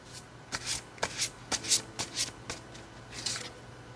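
Tarot cards being shuffled and drawn, a series of about nine quick papery riffling bursts in an irregular rhythm, close and fairly quiet, with no voices.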